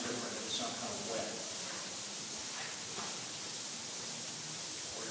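An airbrush spraying paint gives a steady, even airy hiss that holds at constant loudness throughout, while a person speaks faintly under it.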